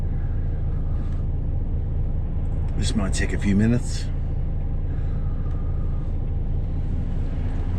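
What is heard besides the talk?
truck cab idling in a traffic jam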